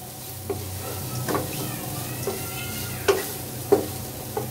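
Food, including garlic, sizzles steadily in a frying pan while a utensil stirs it, with a few scraping knocks against the pan.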